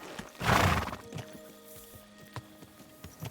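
Horse neighs loudly up close, a long whinny, followed by a scatter of hoof clip-clops in a medieval-setting video game, with no talk.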